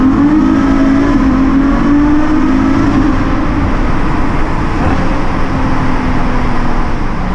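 A Mercedes C63 accelerates through a tunnel, its engine a loud, sustained roar rising in pitch and echoing off the enclosed walls without pause.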